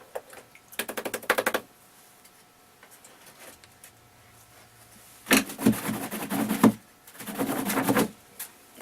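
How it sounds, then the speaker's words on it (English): A paintbrush beaten against a beater rack at the bottom of a garbage pail rattles in three rapid bursts, each about a second long, separated by quiet pauses. "I got a little beater brush, beater rack on the bottom of a garbage pail down there."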